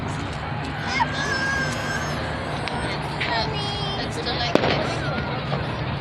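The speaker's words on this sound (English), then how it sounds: "And there's a firework behind me and right over there in the front." Fourth of July fireworks go off amid a noisy outdoor crowd, with steady rumbling and crackling under babbling voices and one sharp bang near the end.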